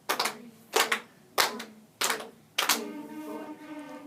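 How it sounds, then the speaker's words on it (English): Band students, clarinets set down, clap a rhythm together in a rehearsal room: five distinct group claps with short gaps, the last blending into a sustained tone. "let's put the clarinets down and clap and count"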